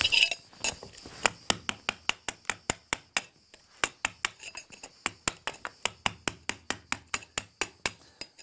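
A rigid mason's spatula (riflard) scrapes and taps away concrete spills on a reconstituted-stone terrace, making a steady run of sharp, close, metallic clinks in a regular rhythm with no talking.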